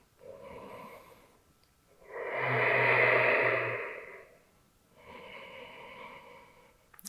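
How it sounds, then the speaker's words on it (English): Three deep breaths taken during a shoulder stretch, close to the microphone: a soft inhale, a longer and louder breath in the middle, then a third, each a breathy rush separated by brief quiet. "breathing big up into your chest"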